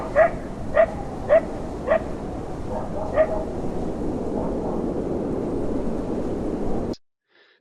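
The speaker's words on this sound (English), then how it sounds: "the occasional dog barking in the distance" A dog barks several times in the distance in the video game Lies of P, short evenly spaced barks over a low ambient rumble, then silence near the end.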